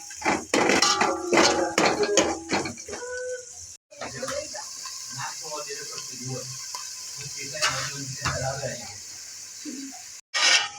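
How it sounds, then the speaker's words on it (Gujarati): Chopped onions sautéing in a pan for dum aloo, with pan and utensil clatter and scraping up front, then a softer sizzle and stirring, with a voice speaking over the cooking. "હવે ડુંગળીને સળી જવા દઈશું। ડુંગળી થોડો કલર બદલે ત્યાં સુધી એને સળવા દેવાનું।"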